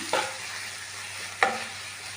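Watermelon halwa is stirred in a pan, with two distinct scraping strokes about a second apart over a low steady hum, close and fairly quiet, no voices.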